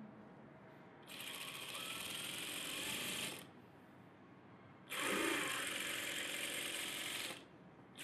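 Sewing machine stitching a net model blouse, running in two steady bursts of rapid mechanical chatter about two seconds each, separated by a short quiet pause, close and clear with no talking.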